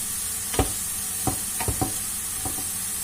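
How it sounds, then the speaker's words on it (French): Onions and shallots sizzle softly in a pan while a spoon stirs them in several short scraping strokes spread across the moment, with a steady quiet frying hiss underneath. "je vais laisser mes oignons et mes échalotes bien rissoler"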